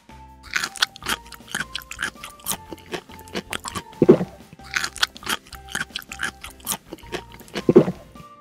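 Crisp crunching bites and chewing of a sugar cone topped with a scoop of mint chocolate chip ice cream, repeated in close, irregular bursts over several seconds.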